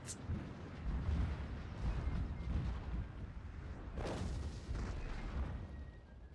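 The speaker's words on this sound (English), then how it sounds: "The artillery seems to have already wreaked quite a bit of havoc." Artillery fire in the Shogun 2: Fall of the Samurai game, including 6-pounder guns: repeated deep booms and explosions rumble across the field, with a sharp burst near the start and another heavy blast partway through.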